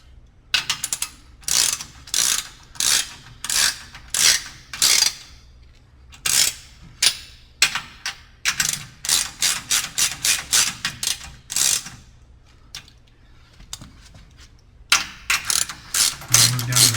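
Hand ratchet tightening the 9/16 bolts on a StairMaster StepMill's pillow block bearings, heard as close, loud bursts of rapid clicking in repeated strokes with short pauses between.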